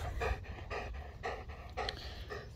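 A dog pants hard and close during a training session at a park, with quick rhythmic breaths repeating steadily, about eight puffs, with no talking.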